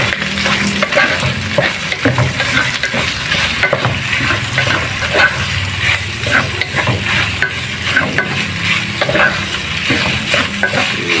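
Small pieces of meat fry loudly in a pan and are stirred continuously, a steady close sizzle broken by the scrape and clatter of a utensil throughout, with no talking.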